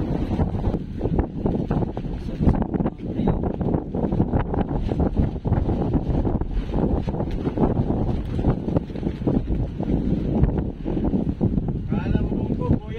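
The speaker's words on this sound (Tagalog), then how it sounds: "Malakas yung hangin ngayon, no?" Strong wind buffets the microphone at Dinahican Port, a constant loud rumbling roar with gusty pulses throughout, while people talk over it.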